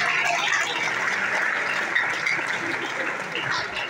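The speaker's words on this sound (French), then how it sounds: "Nous pouvons applaudir" Applause from a French-speaking audience at a teachers' celebration event, a steady wash of many hands clapping at moderate level, with some voices mixed in.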